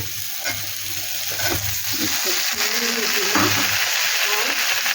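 Vegetables fry in hot oil in a wok for a water spinach dish, giving a steady, close sizzle and hiss with occasional stirring scrapes throughout.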